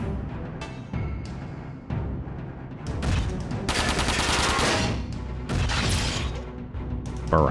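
Barrage attack gunfire from the mech game Front Mission 4: loud, close bursts of rapid machine-gun fire that build into a dense sustained volley, with booming impacts between shorter rattling strings.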